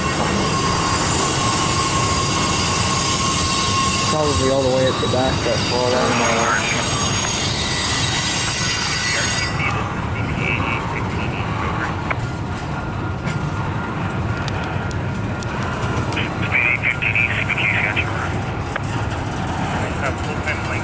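A freight train rolls past with its wheels squealing in high, shrill bursts over a steady loud rumble of railcars, close by and continuous, while someone speaks briefly near the start.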